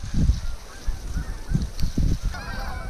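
Geese honk repeatedly during a Canada goose hunt in changeable weather, loud and fairly close, with several overlapping calls in an irregular rhythm.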